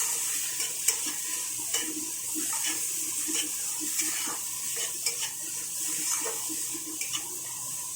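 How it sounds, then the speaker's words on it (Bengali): Prawn heads fry lightly in a pan with a soft, continuous sizzle. Scattered scrapes and clinks from stirring come through at an even, fairly quiet level. "আমি এখানে চিংড়ি মাছের মাথাগুলো হালকা করে ভেজে নিয়েছি"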